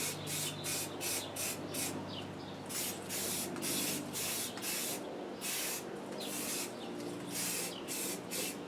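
Aerosol spray can sputtering as it nears empty while coating the bezel of a 1966 Chevy C20 truck, a string of short bursty hisses with brief gaps, close and steady.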